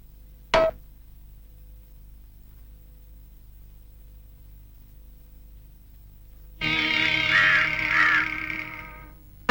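A crow caws once, a short harsh call, then after a long quiet stretch a louder, rough, sustained cawing comes in, close and clear over faint background hiss.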